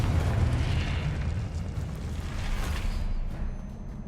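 A Confringo fire-spell blast in Hogwarts Legacy rumbles as a continuous low, dense roar of eruption and burning that fades slightly toward the end, with no talk.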